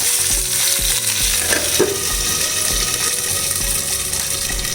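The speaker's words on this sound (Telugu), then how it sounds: "లో ఫ్లేమ్లో పెట్టి వేయించండి." Green chillies frying in oil over a low flame for a Rayalaseema-style dish, a steady close crackling sizzle with light clinks of stirring throughout.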